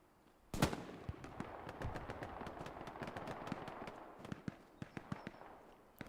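Rapid bursts of MG42 machine gun fire in the World War II shooter Hell Let Loose, a sharp close shot followed by steady distant automatic fire and scattered cracks, moderately loud throughout.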